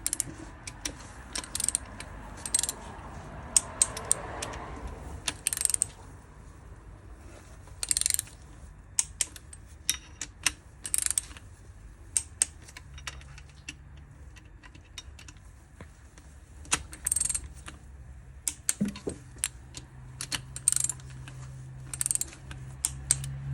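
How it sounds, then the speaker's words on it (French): Torque wrench ratcheting while tightening connecting rods on a Volvo XC90 engine, repeated bursts of sharp close clicks in irregular runs, with faint rustling between them. "Donc, pour serrer mes bielles, je vais les serrer d'abord à 15, ensuite à 25 Nm, ensuite à 100 degrés."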